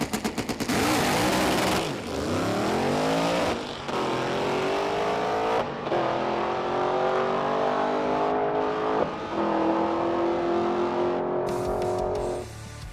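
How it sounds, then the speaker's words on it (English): A drag race car makes a full pass down a drag strip. The engine roars loud and close, climbing in pitch through several sharp gear shifts before easing off at the end. "I'd like to make one more pass, at least down the drag strip, to find out, you know, where we're at in terms of this car's performance."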